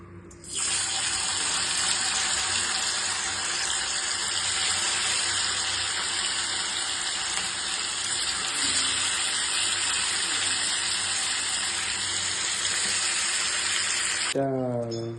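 Marinated meat drops into hot oil and sizzles with a loud, steady hiss for about fourteen seconds, then cuts off abruptly.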